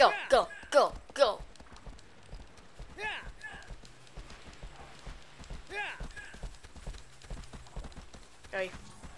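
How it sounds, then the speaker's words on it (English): Horse hooves galloping in Shadow of the Colossus on PS3, a steady rhythmic clip-clop running throughout, with someone talking loudly over the first seconds and again briefly later. "I'm doing nothing but kicking this horse."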